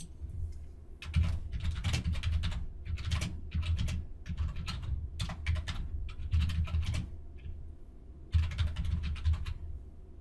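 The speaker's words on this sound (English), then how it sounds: "Type in your comment." Typing on a computer keyboard, close and steady bursts of rapid key clicks with short pauses between groups, continuing throughout without speech.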